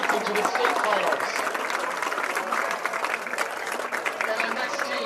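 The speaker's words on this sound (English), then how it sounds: "nice round of applause for Coldwater," Steady, loud crowd applause for the Coldwater team advancing to state finals at an Ohio high school boys district event, dense clapping sustained for several seconds with no break.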